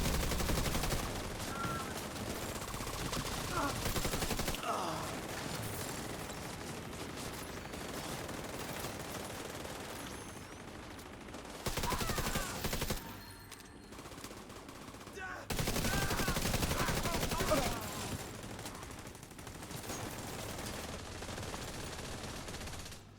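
Video game gunfire aimed at a convoy: long, loud bursts of rapid machine-gun fire and shots, close and dense, with brief lulls between volleys and occasional voice underneath.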